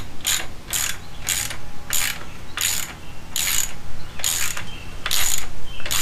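Ratcheting clicks from a breaker bar working loose a tight bolt on a 1964 Mercury Thunderbolt 1000 100hp outboard motor, coming in about nine short bright bursts at a steady rhythm, close and fairly loud, with no talking.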